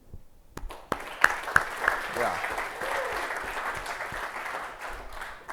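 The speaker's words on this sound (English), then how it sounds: "Investors should get claps too sometimes" An audience at Unbounded Capital Summit 2022 breaks into sustained applause that swells and holds for several seconds, after a few sharp claps and a brief voice at the start.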